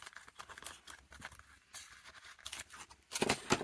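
Scissors snip through paper for a handmade mini journal album, a series of soft, close crunching cuts ending in a couple of louder snips.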